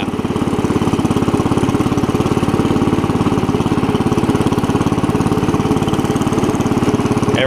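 A classic Cub Cadet 70 garden tractor engine runs steadily while the machine drives, a close, loud, even mechanical chugging that holds without a break.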